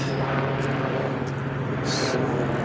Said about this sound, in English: That's a helicopter there.